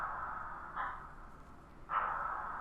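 A cross-stick percussion loop from an Only One kit, run through a room preset and a bandpass filter, plays faint and muffled with a narrow, washed-out tone and two brighter accented hits.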